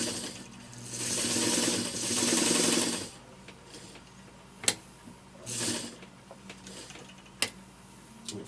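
A White model 162 sewing machine stitches through thick layered material in two long whirring runs, followed by quieter pauses with sharp clicks and another brief burst of stitching.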